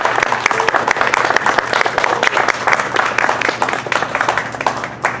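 Sustained audience applause at a county public meeting on pesticides, honoring a speaker, dense steady clapping from a crowd with a few cheers, loud and close throughout.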